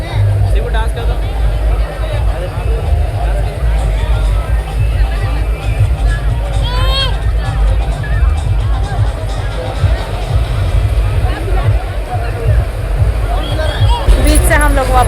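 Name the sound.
noisy crowd at Calangute beach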